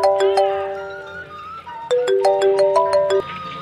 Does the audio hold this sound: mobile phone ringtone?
yes